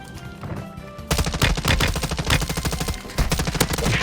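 Rapid automatic gunfire in Call of Duty on Ashika Island, dense overlapping bursts that erupt loudly after a quieter first second and keep rattling close and continuous to the end.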